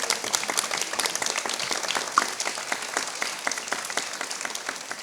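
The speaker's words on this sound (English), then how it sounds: "Big round of applause for Ayoung Kim." Audience applause for Ayoung Kim at an arts and culture mini marathon at Palazzo Diedo, steady dense clapping from a large crowd filling the whole stretch without pause.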